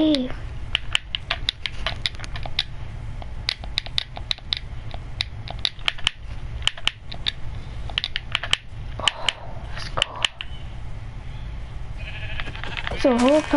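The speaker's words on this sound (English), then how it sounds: "There's a whole pack of sheep right here." Sheep bleat in the video game Minecraft, several wavering cries at the start and end, amid a dense run of sharp clicks and tapping from gameplay.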